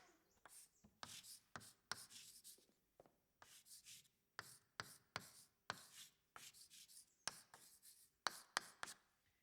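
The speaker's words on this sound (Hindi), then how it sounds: "कुछ ऐसा लिखते थे विंची साहब।" Pen scratching on paper in a scene about Leonardo da Vinci's writing, with rapid irregular bursts of scribbling strokes broken by short pauses, close and quiet, no voices.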